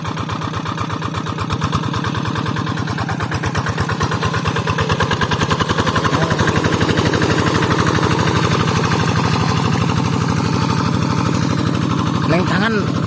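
A tractor engine runs steadily with a rapid mid-pitched chugging throb close by, rising slightly in level partway through, with voices faintly under it.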